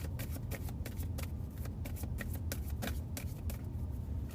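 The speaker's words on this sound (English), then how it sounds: "Let me shuffle." A deck of tarot cards is shuffled by hand, a steady run of crisp riffling flutters close to the microphone, with no talking over it.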